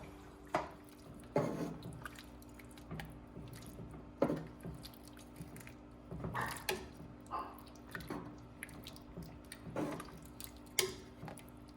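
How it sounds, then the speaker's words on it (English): A spoon stirs vegetable soup in a pot after salt and pepper go in, giving wet squishing scrapes in irregular bursts about a second apart, near and moderately loud with no talk. "Then you stir it up."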